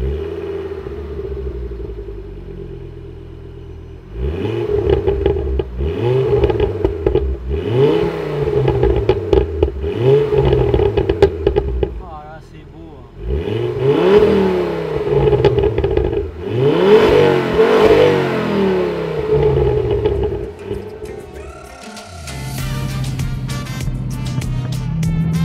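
A Ford Focus ST MK2 engine revs hard in repeated bursts, climbing and dropping with each throttle blip, then pulls away under acceleration, loud and close with a clattering, rumbling edge.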